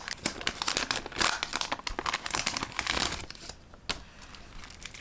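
A foot peeling mask packet is torn and opened with dense, loud crinkling and crumpling of plastic foil, irregular rustling bursts close by, fading toward a quieter end.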